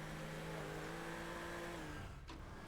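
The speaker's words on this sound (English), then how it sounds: "Ooh, it's a brand new car. Let's drive it." A brand new car's engine in the video game Teardown holds a steady revving drone, then drops off abruptly near the end with a brief whoosh. The sound is moderately loud, with no speech over it.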